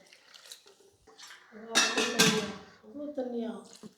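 A spatula stirring masala stuck to the bottom of a kadai for a simple kara kuzhambu sends up scattered metallic clanks and scrapes, mixed with someone talking close by.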